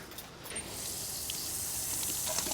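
Water runs steadily into a container being filled with a gallon, a soft continuous gush with faint splashing, low in level and close by.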